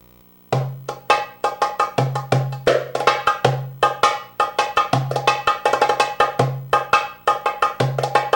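A doumbek plays the Arabic shiftatelli rhythm at a steady, moderate pace, with deep bass strokes and crisp, ringing high slaps, solo and close.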